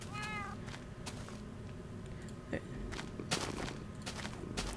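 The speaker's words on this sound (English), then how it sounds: "I actually tamed a couple of cats, and I bred a couple of them." Cats in the Minecraft video game meow over a busy background of game sounds and footsteps, with one clear, rising meow near the start and fainter cat cries afterward.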